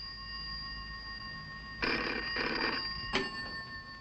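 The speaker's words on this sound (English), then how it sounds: "He's linked by radio phone to his shore base at Yarmouth and to the duty officer at home at night." Radio telephone on a 1968 North Sea drilling rig ringing in several loud electronic bursts against a steady background hum, with no speech.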